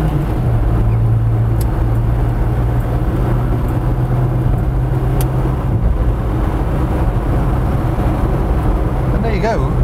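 Vauxhall car driving fast on a motorway, heard from inside as a steady, loud drone of engine and road roar with constant wind rush, continuing unbroken throughout.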